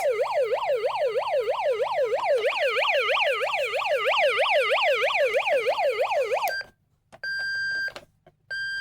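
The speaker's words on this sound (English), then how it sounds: "here's the sirens" A Hess toy truck siren wails in a rapid, repeating up-and-down electronic pattern, loud and close, then cuts to a couple of brief steady beeps.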